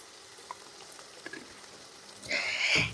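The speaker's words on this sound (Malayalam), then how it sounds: "ഇനി ഇതിലേക്ക് 4 ടേബിൾ സ്പൂൺ ടൊമാറ്റോ സോസും 1 ടേബിൾ സ്പൂൺ ചില്ലി സോസും 1 ടീസ്പൂൺ സോയാ സോസും ചേർത്ത് കൊടുക്കുന്നുണ്ട്" Tomato, chilli and soy sauces hit a hot pan for fried rice and start a loud hiss that builds toward the end, after a few faint clinks and taps.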